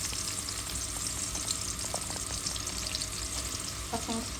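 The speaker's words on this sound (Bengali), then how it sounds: "পেঁয়াজ দিয়ে দিলাম," Onions frying in leftover fish-frying oil in a pan, a steady close sizzle that runs throughout with a few brief stirring clinks near the end.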